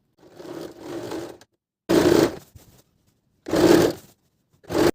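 A sewing machine stitching the crotch seat seam of loose palazzo trousers, running in three or four separate bursts of steady mechanical whirring, close and fairly loud, broken by short silences as the fabric is repositioned.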